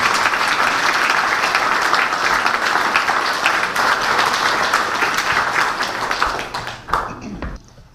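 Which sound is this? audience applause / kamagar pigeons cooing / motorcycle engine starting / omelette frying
audience applause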